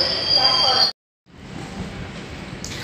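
A train at Tambaram railway station, with steady broadband rumble and rolling noise, a sudden brief dropout, then continuous nearby train and platform noise resuming at moderate level.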